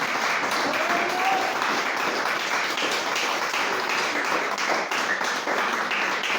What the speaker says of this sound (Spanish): Dale un fuerte aplauso si se lo vas a dar.